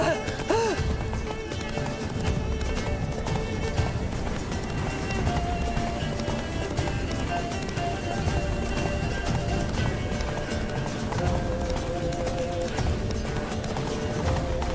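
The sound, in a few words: horse Roach galloping in The Witcher 3 video game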